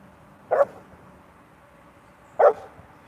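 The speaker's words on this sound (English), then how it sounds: "He's barking." A dog barks twice, well spaced, each a single short bark, over a quiet, faintly noisy background.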